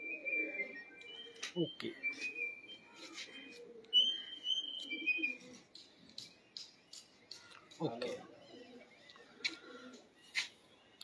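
Pigeons coo in low, soft rolling phrases at a pigeon loft in Jalal Pur Bhattian, recurring across the stretch beneath a man's speech, with occasional sharp whistles and bright clicks nearby.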